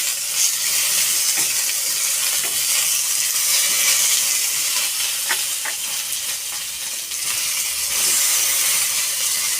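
Green chillies, garlic paste and chopped tomatoes fry in hot oil for a Maharashtrian chilli thecha, giving a loud, continuous close-up sizzle with a few faint pops and clicks throughout.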